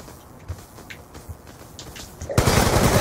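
Gunfire in Call of Duty Black Ops 2 opens up after a stretch of scattered thuds and footsteps, turning into a loud, dense burst of rapid automatic shots near the end.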